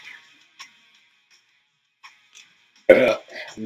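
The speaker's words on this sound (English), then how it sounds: "That burp was like Whoppers." One short, close burp follows a drink of brandy mixed with Canada Dry ginger ale. It comes after a stretch of near silence with a few faint clicks, and a brief vocal sound trails after it.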